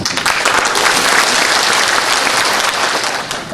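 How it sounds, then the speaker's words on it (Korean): Steady audience applause fills a lecture hall at a Hongcheon civic association talk, dense and continuous throughout before easing slightly at the end. "홍천 고수님한테 박수를 다시 합니다"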